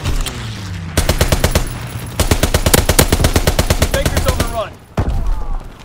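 Rapid machine gun bursts from a strafing run in Call of Duty WWII, loud sharp rattling volleys that pause briefly and resume, with a voice speaking over the fire.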